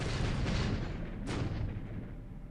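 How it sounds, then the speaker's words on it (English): Depth charges burst around a Dutch submarine in War in the Pacific, heard as a dense, rumbling wash of booming explosions with a fresh sharp blast near the middle, loud and continuous with no voices. "A Dutch sub is firing at a cruiser mine layer, and I guess it missed or got a hit but no explosion, and now it's getting depth charged"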